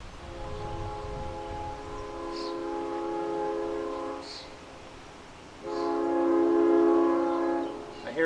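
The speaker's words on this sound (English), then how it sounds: "I hear a train." A train on a mainline track near a railroad crossing sounds its horn in two long, steady blasts separated by a short gap. The horn is fairly distant over low background rumble.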